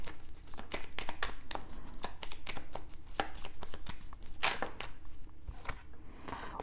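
A deck of cards is shuffled and cut near the microphone, giving a dense run of quick riffling snaps and sharp flicks at an uneven rhythm, with a louder burst partway through and no speech.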